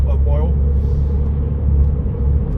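Steady low rumble of a Porsche 996 Targa's engine and road noise from inside the car while driving, continuous and even, with a voice speaking over it.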